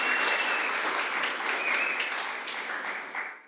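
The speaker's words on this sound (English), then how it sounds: "let's give all the contestants one more round of applause" An audience at a student arts contest claps for the contestants in a thick, even burst of applause that holds steady and then tapers off near the end.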